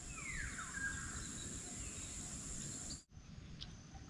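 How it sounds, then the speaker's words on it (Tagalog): Forest ambience with birds chirping, a few thin calls over a steady high insect drone and low background rumble, faint and distant, with the sound cutting out briefly near the end. "ano yung maririnig natin ay huni ng ibon"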